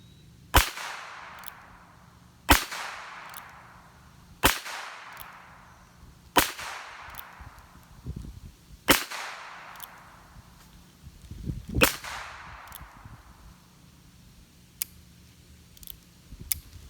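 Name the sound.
Heritage Rough Rider .22 revolver firing hollow point rounds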